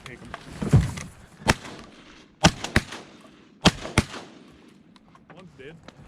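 Shotguns fire at ducks during an opening-day waterfowl hunt in the south zone. Several sharp, loud blasts come close together, some in quick pairs, while hunters shout and talk around them.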